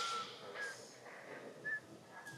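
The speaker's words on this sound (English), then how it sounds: "You just heard me whistling there." A few short, thin whistled notes, spaced out over a couple of seconds, fairly quiet against a soft background hiss.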